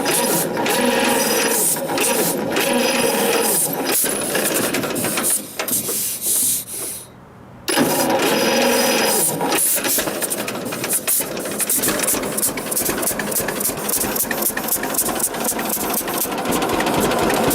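A 1946 John Deere AR tractor engine runs loud and close after starting, its rough mechanical clatter continuous with a brief dip and near-silent gap before it picks back up steadily.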